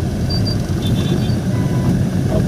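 Engine and road rumble from inside a car driving in traffic, a steady loud low drone that holds throughout, with faint higher tones above it.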